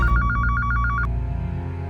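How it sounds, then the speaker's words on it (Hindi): A household telephone rings with a rapid, repeating electronic trill in a home setting, close and clear for about a second, then stops, leaving quiet background music. "फोन उठाओ"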